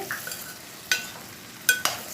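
Okra is stirred in a pan while cooking: a soft sizzle underneath, broken by a few sharp scraping clinks of the utensil against the pan.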